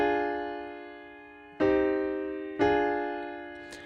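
Three sustained chords in a regular minor key, the second one diminished, each struck cleanly and left to ring and decay, alone with no talk.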